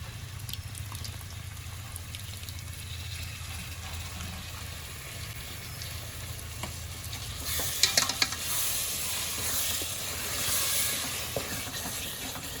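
Masala spices being mixed and cooked in a pan for Kerala-style chicken biryani, giving a continuous hiss and sizzle with scraping stirs that grow louder near the end, and no talking.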